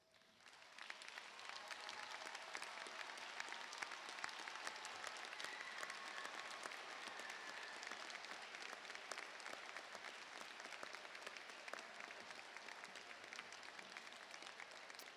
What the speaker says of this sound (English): Will all of our honor students please rise to receive our applause?